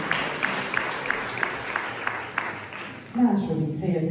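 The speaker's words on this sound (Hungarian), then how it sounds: "egy nagy tapsot kérjük szépen." Sparse, rhythmic clapping from a small audience at a children's awards announcement in Kaposvár, with single claps spaced evenly until a voice begins speaking at the end.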